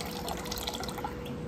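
Water swirling in a pot while rice is washed, soft close sloshing and dripping trickles, quiet and continuous with no speech.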